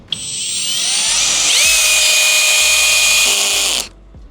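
A FLEX hammer drill runs at clutch setting 3, driving a fastener into material in one continuous high whine lasting several seconds, its pitch shifting as it bites, then cutting off abruptly.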